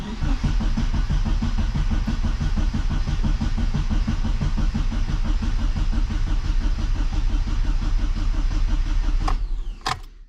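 A classic Mini's engine cranking on its starter motor, a fast steady rhythmic churning close by for about nine seconds before catching with a couple of sharp bursts at the end.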